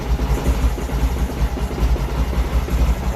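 A 1990 Honda ST1100 motorcycle engine, just after starting, settles into a steady, loud close-up idle with an even low throbbing pulse and no talk.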